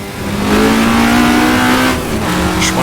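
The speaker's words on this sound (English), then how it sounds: "Revving it out in second gear." Alfa Romeo GTA engine in the Assetto Corsa racing game revving hard in second gear, a loud steady rising engine tone held near and continuous, dipping slightly near the end.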